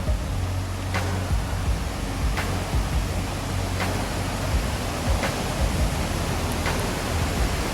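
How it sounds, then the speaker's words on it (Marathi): Loud rushing water pours down a built series of steps outdoors in nature, a dense continuous roar that stays steady and close throughout with faint periodic ticks. "पाण्याचा प्रचंड आवाज येतोय"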